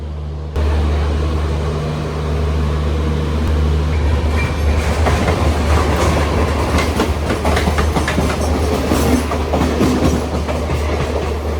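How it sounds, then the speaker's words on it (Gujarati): Karnavati Express pulling out of Mumbai Central station, a steady loud rumble of the rolling train with rhythmic wheel clatter building after a few seconds and continuing throughout, no voices. "આપણી ટ્રેન મુંબઈ સેન્ટ્રલ રેલવે સ્ટેશનથી રવાના થઈ ચૂકી છે અમદાવાદ જવા માટે"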